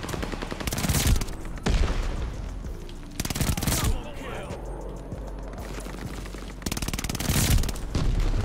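Gunfire in Call of Duty Vanguard, a multiplayer match: repeated bursts of rapid automatic fire in three loud clusters, separated by quieter stretches of game ambience, with players talking over the action.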